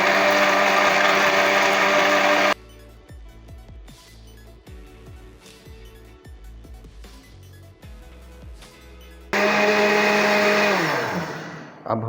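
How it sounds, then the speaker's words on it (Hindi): Electric blender whirring loudly while blending an Oreo milkshake, starting in a strong burst, stopping for a stretch of quieter clinking and handling, then roaring again before spinning down. "अब हम इसे बंद करके ब्लेंडर को चलाएंगे।"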